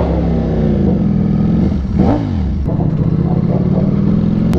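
Yamaha R1 sportbike engine running roughly, a loud steady rumble with an uneven revving swell in the middle.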